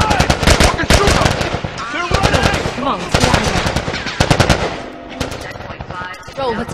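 Gunfire in the video game The Last of Us Part 1, loud close bursts of rapid automatic shots in repeated volleys, with shouting voices between them.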